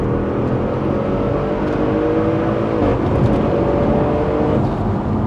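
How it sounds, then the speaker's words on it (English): Audi 4-liter V8 bi-turbo engine running steadily up close, a loud continuous rumbling drone with rising harmonic tones as the revs climb, heard alone without talk. "This is an Audi's 4-liter V8 bi-turbo."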